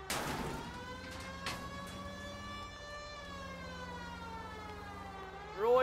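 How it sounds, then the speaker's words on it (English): A wailing police siren in the video game L.A. Noire rises and falls steadily, fairly faint, with a couple of brief knocks and a louder burst at the end. "Did you figure to use the siren?"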